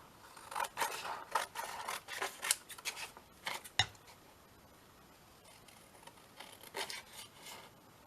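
Scissors snip out paper craft pieces for a handmade tag project, with close, crisp cutting and rustling strokes in quick bursts that fade to quieter, sparser snips.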